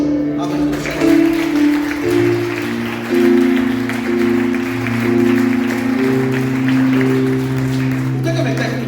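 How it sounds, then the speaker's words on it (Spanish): A church congregation claps together at a Sunday service, steady applause over sustained keyboard or organ chords, with some voices mixed in. "Denle un aplauso a nuestro Señor."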